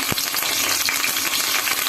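Mustard seeds, red chillies and curry leaves crackle in hot oil for a chutney tempering, a loud, close, continuous hiss with scattered sharp pops, and no voices.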